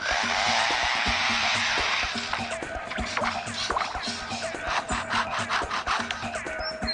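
Lyrebird imitating a saw cutting down a tree: a rasping, scraping burst at first, then scattered scratchy strokes and clicks, fairly faint and close.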